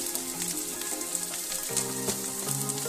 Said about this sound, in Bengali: এবারে এটাকে আমি ভালো করে নাড়াচাড়া করবো